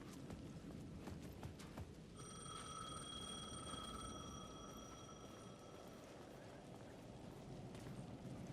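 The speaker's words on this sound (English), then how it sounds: "The payphone at the edge of the plaza was ringing again." A payphone in the video game Alan Wake 2 rings with a bell-like, sustained electronic tone over a busy, rumbling background, with soft clopping sounds scattered earlier.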